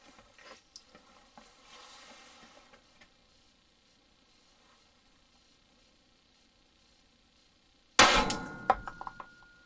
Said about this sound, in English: this is my Glock 42 shooting the 65 grain Underwood ammo